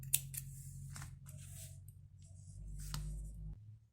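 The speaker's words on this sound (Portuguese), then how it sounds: "aqui a gente vai cortar o fio" Scissors snip through crochet yarn while a festive crochet earring is being finished: a few short, close, crisp cuts in a quiet room with no voices.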